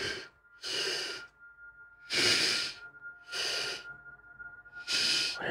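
A voice imitates heavy breathing: five loud, hissing breaths in a slow, uneven rhythm, each separated by a short quiet gap.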